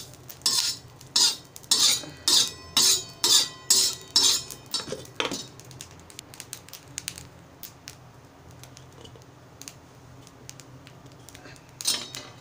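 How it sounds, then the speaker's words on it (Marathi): Fresh coconut is scraped out of its shell for a Malvani egg curry, a series of about ten rhythmic rasping scrapes close by, then quieter scattered scratches and clinks. "ओलं खोबरं काढून घेत आहे।"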